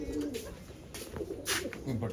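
Pigeons coo softly in low, rolling calls amid light background noise, with a person talking nearby.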